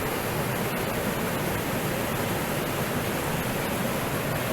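A mountain waterfall steps down over rocks, a dense, steady roar of rushing water that stays loud and unbroken throughout, close by with no voices.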